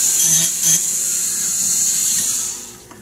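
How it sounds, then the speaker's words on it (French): A small rotary tool grinds to thin the edge of a metal part so a bolt can fit, a steady high-pitched whine running close and continuous before tapering off near the end. "on va utiliser des petits rotatifs et simplement amincir un peu"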